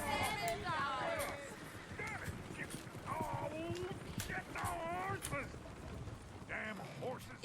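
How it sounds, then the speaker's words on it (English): Horse hooves clip-clop at a steady trot in the Red Dead Redemption 2 video game, moderately close, under ongoing talk from several voices. "Damn horses."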